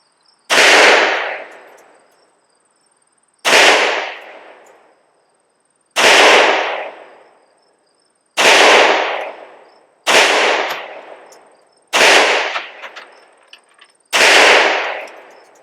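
Seven sharp, loud pistol shots from a Webley & Scott Model 1908 .32 pocket pistol, fired one at a time at a steady, unhurried pace with a short ringing decay after each and quiet gaps between.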